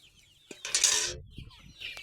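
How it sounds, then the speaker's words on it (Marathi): Village hens scratching and pecking at feed give short clucks and a brief burst of squawking, close by, with light rustling in between. "अशाच कोंबड्या उकरून इकडलं तिकडलं खात्यात"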